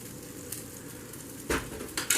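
Potato cakes frying in a pan, about four at once: a soft continuous sizzle with short bursts of spattering and a few clinks of utensils against the pan, close and fairly quiet, no voices.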